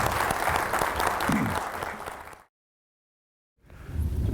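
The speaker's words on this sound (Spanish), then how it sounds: "pido un fuerte aplauso para él" An audience gives strong applause at an academic lecture event, a dense sustained clapping crowd that cuts off abruptly into silence and then resumes more faintly, with some murmuring voices underneath.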